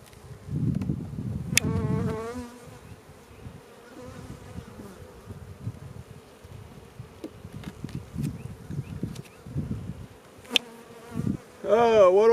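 Honeybees buzzing around a beehive, a faint continuous drone with individual bees passing close and loud at moments, plus occasional knocks and rustles.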